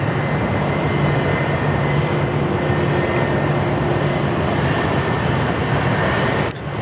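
Qantas jet taxiing at Sydney Airport toward Terminal 3: a steady, loud engine roar with a constant whine holds throughout, then drops slightly at the very end.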